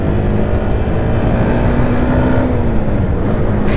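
A Yamaha MT 125 motorcycle, a 2020 125cc model, hums steadily while being ridden, its engine drone continuous and even throughout with a faint rising tone near the end and no talking.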